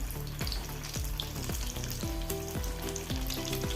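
Kerala-style banana fritters made with small bananas and rice batter fry in hot oil. A close, steady sizzle is broken by rhythmic low thumps and scrapes as the pieces are stirred and turned.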